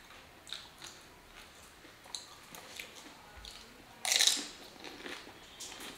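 Pani puri crunching in a mukbang eating challenge: a single sharp, loud crisp bite about two-thirds of the way through, with faint chewing clicks and soft mouth sounds around it and no talking.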